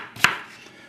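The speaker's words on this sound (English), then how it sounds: "I take the seeds out, cut the squash like so" Single crisp knife chop through yellow squash and zucchini on a cutting board, close and fairly quiet, followed by a fading hiss of room tone.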